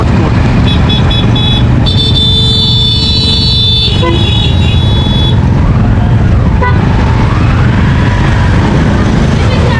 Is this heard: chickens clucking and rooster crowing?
no